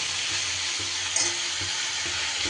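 Ridge gourd curry with ground spices and green chillies being stirred and fried in a pan, an even sizzle broken by soft rhythmic scraping strokes of a spatula.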